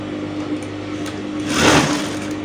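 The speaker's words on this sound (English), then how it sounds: "you place your trouser, pushing the elastic, and then you keep sewing around." A sewing machine stitches an elastic waistband onto three-quarter trousers, running in a steady close whir that swells briefly louder before easing off.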